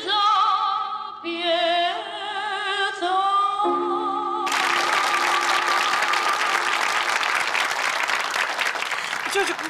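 An audience at a school show bursts into loud, sustained applause halfway through, after a few seconds of sung, held musical notes; the clapping fills the hall densely to the end.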